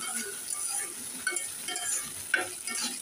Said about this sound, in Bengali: ধনেপাতা দিয়ে 1 মিনিট নাড়াচাড়া করে তারপরে নামিয়ে নেব।